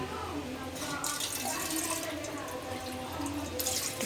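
Water runs into a cooking pot while a curry is made for a baby. The pour is a steady, close trickle and splash, and someone talks over it.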